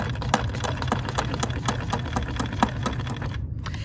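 A BERNINA sewing machine over-sews one small area instead of breaking the thread, a close, loud, steady mechanical whirring with rapid rhythmic needle knocks that stops abruptly near the end.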